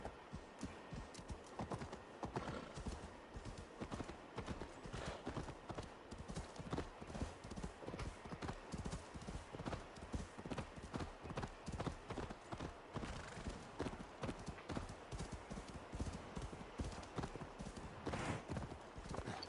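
Horse hooves clip-clopping in the Assassin's Creed Valhalla video game, a steady, continuous rhythmic trot of close, crisp hoofbeats heard alone throughout.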